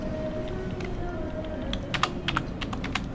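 Java code being typed on a computer keyboard, with light scattered keystrokes early that build into a quicker run of sharp, close clicks toward the end, alone without speech.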